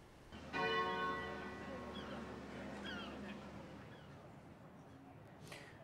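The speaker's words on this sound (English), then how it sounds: "the bells of St. Nicholas Church tolled, once for every year of Henry Allingham's long life" A single stroke of the St. Nicholas Church bell tolls in memorial, ringing out faintly in the distance and decaying slowly into the open air.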